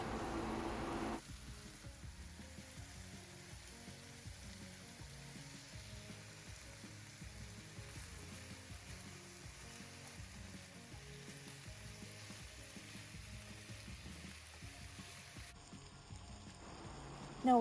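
Chicken seasoned with salt, garlic powder and pepper fries in a pan with a soft, continuous sizzle and crackle, interrupted by a brief louder burst at the start and a clatter near the end.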